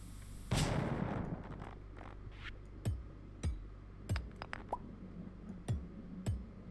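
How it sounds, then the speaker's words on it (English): A bomb goes off in the Stardew Valley video game as one sharp burst, followed by a string of short, soft plopping thuds spaced unevenly across the next few seconds. "Let's use the bomb."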